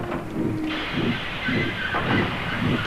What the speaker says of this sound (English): Then groaning, clanging, and clanking, Skarloey crept into sight.